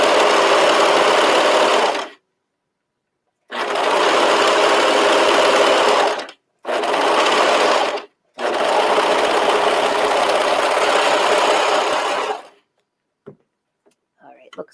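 A cover stitch sewing machine hems a knit top in several fast, whirring bursts separated by short pauses, loud and close, with faint handling clicks at the end.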